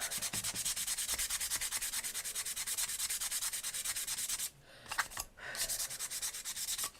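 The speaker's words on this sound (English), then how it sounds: "I just sand that down a little bit and it just gets rid of it" Old tape marks being sanded off a paper craft tag make a rapid, rhythmic rubbing rasp, close and steady, with a brief pause before the strokes resume.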